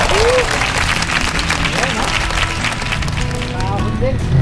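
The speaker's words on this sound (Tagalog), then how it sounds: "Palakpak!" A small group of hikers claps steadily and briskly, a dense patter of applause that carries through without pause, fairly close.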